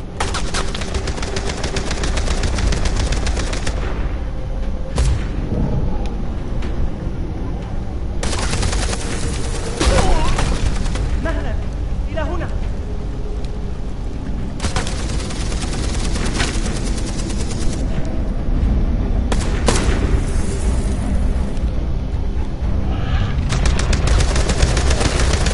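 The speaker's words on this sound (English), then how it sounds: "Oh, they're shooting at them." Heavy bursts of automatic gunfire and overlapping shots in a Beyond Two Souls mission firefight rattle loudly and continuously, dense and sustained across the whole stretch with brief lulls between volleys.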